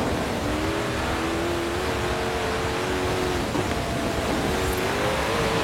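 Engine of an all-wheel-drive car without a wing in a racing video game, droning steadily with a rising and falling pitch as it accelerates, held loud and continuous throughout.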